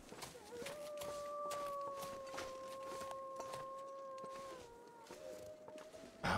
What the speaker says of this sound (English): Now it's harder with the torch going to hear the wolves wandering around.